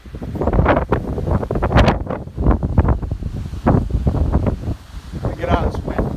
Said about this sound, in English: This is the kind of wind that takes the calf hutches and blows them away.